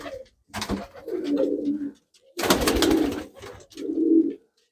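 Soft, low cooing of a female show pigeon in three separate bursts, close by and clear, with short pauses between calls.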